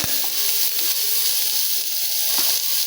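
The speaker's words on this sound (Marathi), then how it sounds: "मोहरी टाकून घेऊया, जिरं, कांदा आणि कढीपत्ता" Mustard seeds, cumin, onion and curry leaves hit hot oil in a kadhai, producing a loud, steady close-up sizzle with a few crackles and pops.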